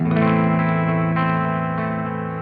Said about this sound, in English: it has super high output pickups, and they sound like this